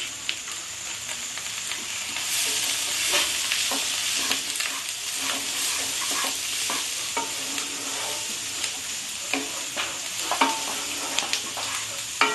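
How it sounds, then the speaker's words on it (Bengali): Steady sizzling of onion and capsicum frying in a pan for pav bhaji, with occasional scraping stirs from a spatula throughout, close and fairly loud, no voices. "এবার আমি পেঁয়াজটা আদা ভাজা করে নিচ্ছি"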